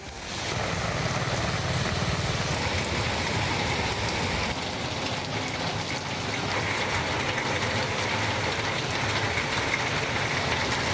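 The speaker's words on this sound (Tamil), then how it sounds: "1 மணி நேரத்திற்கு மேலாக கொட்டிய மழையால் தணிந்தது வெப்பம்." Heavy rain pours steadily in Sivagangai, a dense, continuous broadband hiss of downpour that stays loud and unbroken throughout with no voices.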